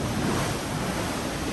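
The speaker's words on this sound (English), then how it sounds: "And the sound of the water." Steady broadband rush of water and waves from a ferry crossing between Rosslare and Bilbao, continuous and loud with wind noise on the microphone.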